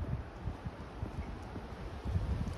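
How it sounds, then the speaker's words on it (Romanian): Wind blowing on an evening in Warsaw, a low continuous rumble and buffeting against the microphone with faint rustling, steady and fairly quiet throughout. "Bate un pic vântul în seara asta în Varșovia"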